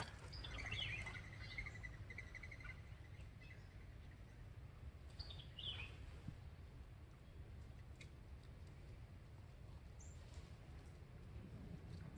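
Birds at a sanctuary beside a coastal island campground chirp in scattered short calls, faint and distant, over a steady broad outdoor hiss.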